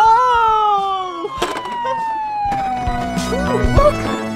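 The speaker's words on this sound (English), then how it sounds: "This is a police car!" A police car siren wails at an indoor playground, a falling tone that sweeps down steadily and fairly loud over busy playground clatter and background noise.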